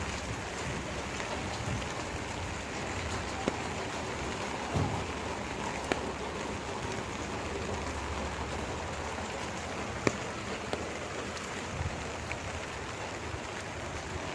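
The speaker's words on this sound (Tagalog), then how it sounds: "Mabagsakan ng sobrang lakas ng ulan" Heavy rain pours down in a steady, dense wash, with occasional louder drops and clicks standing out against the constant roar.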